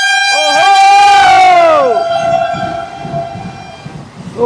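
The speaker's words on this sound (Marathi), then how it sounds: "वंदे भारत ट्रेन चाललेली आहे" A Vande Bharat express train sweeps past loudly with a long two-tone horn blast whose pitch falls as it goes by, followed by a sustained rumbling roar of carriages and a faint crowd murmur.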